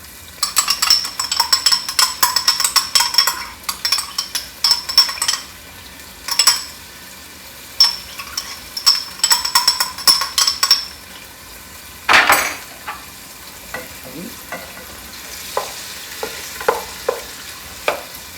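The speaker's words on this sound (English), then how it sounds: "I'm going to throw my minced garlic in there" Minced garlic sizzles in a pan for penne pasta while a utensil scrapes and clinks against it in bursts, the frying hiss steady underneath and the stirring knocks close and fairly loud, with no talking.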